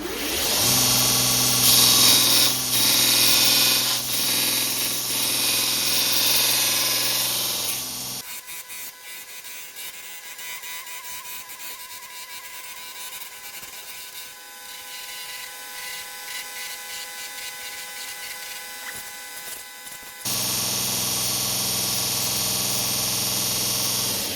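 A 1x30 belt sander grinds metal trim on a Volvo 1800ES frame rail repair, buzzing loudly and close for several seconds. It drops to a quieter whirring hum in the middle and returns to full grinding near the end.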